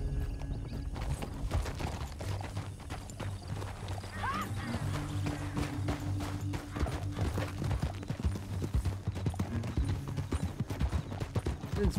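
Horse hooves clip-clop steadily through Red Dead Redemption 2, several horses travelling together at a brisk, even pace with a brief whinny partway through, while someone talks over the game sound.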